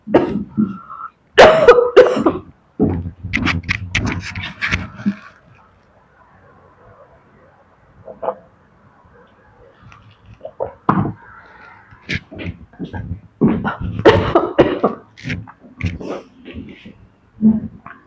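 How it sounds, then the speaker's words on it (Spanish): Several harsh, throaty coughs close to the mic, mixed with bursts of talking and a quieter pause in the middle. "Pero estoy tosiendo."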